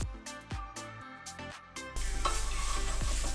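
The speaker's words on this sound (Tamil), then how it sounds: "நல்லா மிக்ஸ் பண்ணி விடுங்க." Plucked musical notes ring for about two seconds, then cut to a coconut masala stirred in a pan over a low flame, a steady close sizzle with a low rumble underneath.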